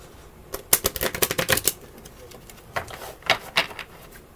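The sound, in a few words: shuffling tarot cards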